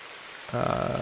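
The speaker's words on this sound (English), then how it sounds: "I use the Pomodoro in the rain sounds" Rain ambience from a Pomodoro study timer swells in about halfway through and continues as a steady, moderately loud patter with a faint underlying hum.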